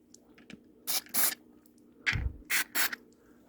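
DeoxIT contact cleaner sprayed onto DJ mixer faders in a handful of short, sharp hissing squirts, close and crisp with small clicks and handling noises between them in a quiet room.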